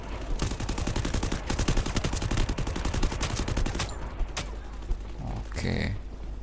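Bursts of rapid gunfire crackle in the Free Fire MAX mobile game, fairly quiet and dense for several seconds before giving way to a few isolated shots and other game effects.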